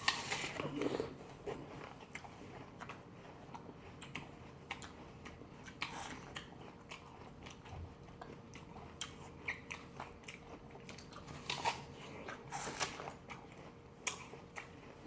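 Close-up crisp crunching and chewing of a whole dessert apple, with repeated sharp bites and wet munching at an irregular rhythm, fairly faint, with no talking over it.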